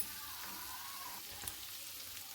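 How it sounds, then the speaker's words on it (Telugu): Chicken pieces frying in a pan while being stirred, a faint, steady sizzle with a light scrape partway through, heard close with no voices. "అటు ఇటు కలుపుకోండి మొత్తం ఫ్రై అయ్యేలాగా"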